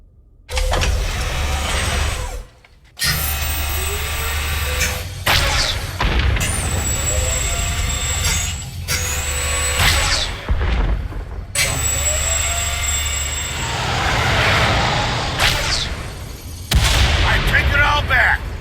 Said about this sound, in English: Activating firing pattern.